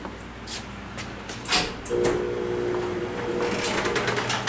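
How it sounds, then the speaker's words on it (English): A mechanical door rattles and rumbles open with a steady grinding drone, close by, over a constant fan-like hum. "But let's open the garage door."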